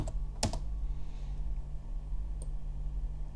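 A password is typed on a computer keyboard in a quiet room: a few soft, sparse key clicks, one sharper tap near the start and another a couple of seconds later, over steady low hum.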